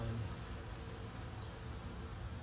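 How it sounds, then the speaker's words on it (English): Honeybees buzzing faintly and steadily around a honey centrifuge as they clean up spilled honey, a soft continuous insect drone with no talking. "I figured I'd let my bees help me with cleaning up the honey"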